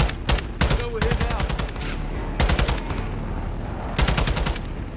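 Bursts of automatic gunfire from the Modern Warfare 2 campaign come in three loud clusters of rapid shots with steady battle noise between them. A voice is briefly heard.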